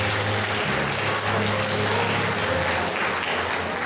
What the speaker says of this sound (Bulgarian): Моля да поздравим с аплодисменти господин Цанко Вълчинов.